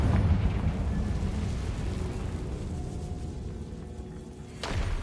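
Confringo blasting spell in the Hogwarts Legacy video game, a heavy rumbling explosion that booms loudly at the start and then decays into a lingering low roar.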